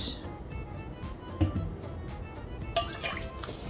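Lemon and orange juice being poured for a cranberry orange whiskey sour, with quiet liquid trickling and dripping and a few light glass clinks, close up and faint, with no talking.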